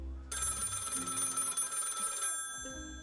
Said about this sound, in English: And the phone's ringing.